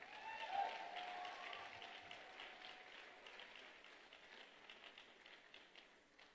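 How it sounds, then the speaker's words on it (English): Applause from an audience at a crowning ceremony in Seattle, faint and fairly distant, swelling early and then slowly tapering off. "Can we please give another round of applause for her?"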